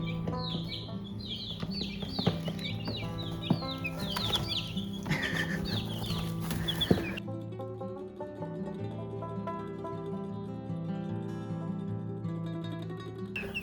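Two-month-old chickens cluck and peep busily in grass over steady low background noise, with short chirps throughout; the clucking grows calmer and more muffled in the second half.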